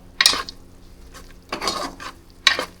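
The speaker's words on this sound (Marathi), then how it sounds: "आता हा फक्त ह्यात आपण परतून घेतो थोडासा." Sliced onion stir-fried in a pan for chicken liver masala: three short bursts of spoon scraping and tossing against the pan, with a soft sizzle in the gaps.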